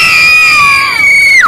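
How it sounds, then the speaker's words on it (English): A child screams in one long, loud, high-pitched sustained shriek that slides downward at the end, close and alone. "Why are you screaming like a girl?"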